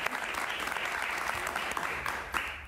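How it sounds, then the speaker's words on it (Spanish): Studio audience applauding steadily at a Spanish television interview with a singer, a dense, continuous clatter of hands throughout with no speech over it. "un aplauso para ellos, por favor."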